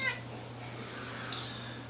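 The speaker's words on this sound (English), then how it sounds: "And my cat's letting me know she's there." A house cat gives two short, faint meows, one at the start and another about a second later, over a steady low electrical hum indoors, with no talking.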